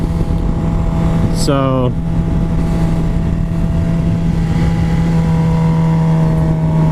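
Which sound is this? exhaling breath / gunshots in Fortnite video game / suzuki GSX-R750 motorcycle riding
suzuki GSX-R750 motorcycle riding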